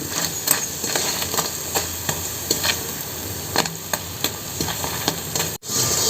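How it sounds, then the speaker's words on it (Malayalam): Asafoetida fries in coconut oil with a steady, close sizzle, broken by the quick scrapes and taps of a stirring spoon against the pan. "കായം മാത്രമാണ് നമ്മൾ വെളിച്ചെണ്ണയിൽ വറുക്കണം"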